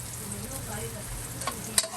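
Onion and garlic sauté in a pan with a steady close sizzle and a soft frying hiss, and near the end a single sharp tap of a utensil cuts through.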